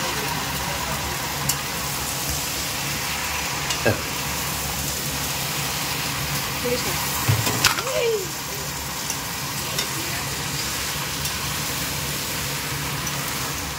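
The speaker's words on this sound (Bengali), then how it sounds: "উচ্ছে ভাজা হবে, মেথি দিয়ে ভাজবে" Steady frying sizzle of bitter gourd with fenugreek seeds in oil in a pan, continuous and close, with a few brief clinks and scrapes.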